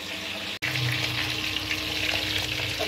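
Potatoes frying in hot oil for dum aloo, a steady close sizzle that runs on without a break after a sharp momentary cut near the start, with no voices.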